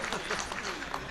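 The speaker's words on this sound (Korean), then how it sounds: "박수 한번 부탁드립니다." Applause from the audience at a Korean union federation's regular delegates' convention: a dense, crowd-wide burst of clapping that holds steady for a moment in a large hall.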